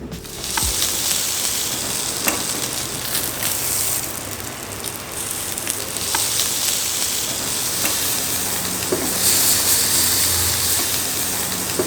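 Chicken satay skewers cook on a grill pan with a loud, steady sizzle and hiss that runs throughout, with occasional clicks and small pops and no talking.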